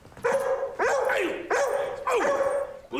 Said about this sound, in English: We see one of his dogs is barking at Robin